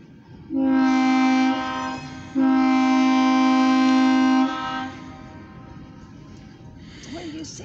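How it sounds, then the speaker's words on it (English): A freight train with its locomotive at the rear sounds two long, loud horn blasts, the second held for about two seconds, then fades into quiet rumbling near the track. "There's gonna be a freight train and it's going forward"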